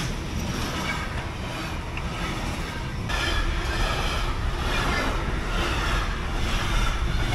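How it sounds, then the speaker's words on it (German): A train rumbles steadily past nearby, a continuous loud clatter of wheels on rails that grows slightly heavier partway through. "Hier vorne ist schon wieder ein Zug."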